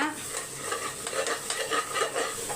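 Chilli powder and salt being stirred into hot frying oil in a pan, with rhythmic scraping strokes over a continuous close sizzle.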